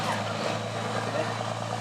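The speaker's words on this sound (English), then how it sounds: "There's a ridiculously loud truck driving right now." A loud truck rumbling nearby outside during an indoor interview, a steady low engine drone lasting the whole short moment, with a voice speaking over it.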